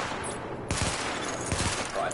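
A primary weapon fires in a video game weapon test, several rapid bursts of gunfire after a quiet moment, close and loud, with a voice speaking around the shots.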